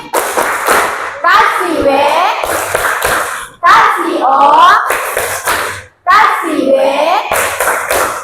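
Schoolchildren clap a patterned classroom routine in bursts of rhythmic hand claps and slaps, chanting along in unison with an adult voice leading between rounds, close and loud.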